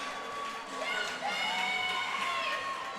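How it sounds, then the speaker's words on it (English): Spectators and the team bench cheering and shouting after a goal at an NCAA college hockey game, a sustained excited crowd roar in an arena, with an announcer speaking over it. "the crowd and the bench both are excited after Buchanan's goal"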